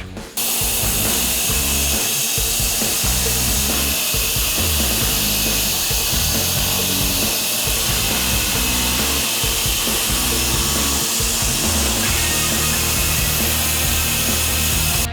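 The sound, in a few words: sawmill cutting wood boards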